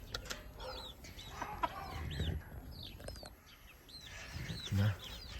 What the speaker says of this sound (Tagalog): Yan ang native kong manok.